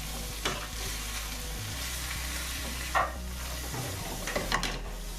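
Steady sizzling of courgettes frying in a pan, with a few scraping stirs of a utensil against the pan at intervals.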